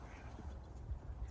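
Six pet ducks at a newly built backyard pond quack in low, rough bursts, a few calls bunching near the end of a short, fairly faint stretch over steady background hiss.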